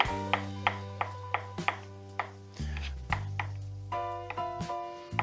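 A knife slices fresh organic mushrooms on a cutting board with a steady series of sharp, close taps about every half second, over a low tonal hum.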